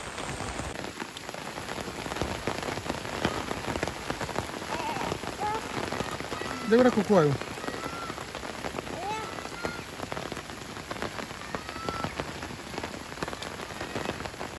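Heavy rain pours down steadily, a dense close hiss of drops on surfaces that continues throughout, with a person speaking briefly over it near the start.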